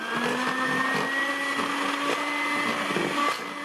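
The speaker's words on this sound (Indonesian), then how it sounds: "Ini saya mixer lagi" An electric hand mixer whines steadily and close by as it beats eggs into choux pastry dough, its motor tone holding nearly constant throughout.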